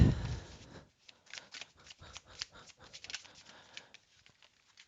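Tarot cards being shuffled by hand, a soft irregular patter of papery riffles and taps that stays quiet and close after a short thump at the start, with no talking.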